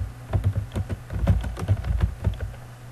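Header text is typed on a computer keyboard in Word 2007, a quick run of close, distinct key clicks over a low background hum.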